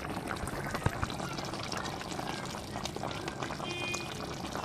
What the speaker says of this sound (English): Now I'm going to add my soy sauce.